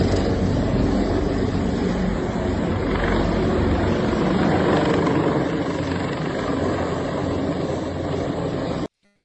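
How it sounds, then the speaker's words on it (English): Mexican Army helicopters, including Blackhawks, flying low over city compounds, with a loud continuous rotor roar and thump that stays close and steady before cutting off abruptly. "Mexican Army helicopters, including Blackhawks, fly over and inspect compounds in the city."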